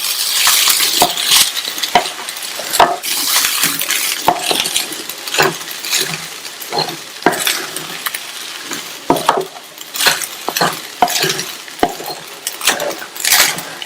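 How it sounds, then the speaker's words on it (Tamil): Rice with fried cashews is stirred together in a pan on a stove turned to low, with repeated close scraping and clinking strokes of a spoon over a soft frying sizzle and no talking. "இது கூட ஃப்ரை பண்ண முந்திரி, ஸ்டவ் சிம்ல வச்சுட்டு ஒரு 4 நிமிஷம் போல நல்லா ஒண்ணா மிக்ஸ் பண்ணி விடுங்க"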